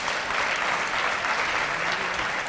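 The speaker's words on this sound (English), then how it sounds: "please give them one round of applause" Audience applause at a Carnatic music concert, a dense, steady clapping from the crowd that holds evenly for the whole stretch with no voices.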